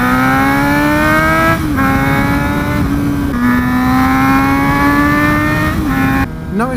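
An inline-four motorcycle engine winds up loudly in rising pitch, dropping briefly at each gear change before climbing again, close and continuous.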